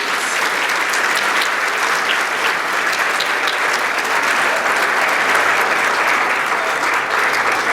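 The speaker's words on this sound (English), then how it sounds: "How about a big round of applause for the seniors from the men's women's swimming diving teams?" At a senior student-athlete luncheon, a crowd claps loudly and continuously for the senior swimmers and divers from the men's and women's teams, a thick, even roar of applause with no break.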